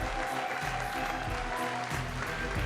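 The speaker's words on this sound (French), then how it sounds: "Ça mérite des acclamations." An audience at a gospel rap concert applauds and cheers steadily, a dense wash of clapping with some low rumble beneath.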